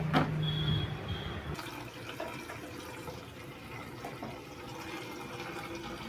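Tap water runs into new water bottles, a bubbling gush that changes pitch sharply after the first moment, then a softer steady pour with small splashes, close by and alone.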